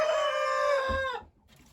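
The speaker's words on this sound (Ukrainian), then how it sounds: "півні розспівалися" A single young rooster crows loudly and close by, one long harmonic cock-a-doodle-doo that fades out near the end.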